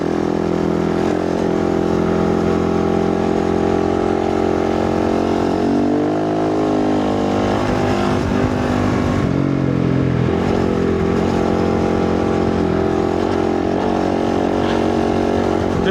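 A Can-Am motorcycle at about 60 in fifth gear on partial throttle, ploughing through deep desert sand: a loud, steady engine drone that stays close the whole way, its pitch dipping and rising briefly midway as the load changes.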